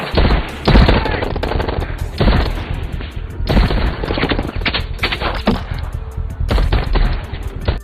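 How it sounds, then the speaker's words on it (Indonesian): Intense film gunfight with dense bursts of automatic gunfire and heavy single shots, loud and continuous, punctuated by booming impacts and crashes over a cinematic soundtrack. "hingga terjadilah baku tembak yang sangat epik"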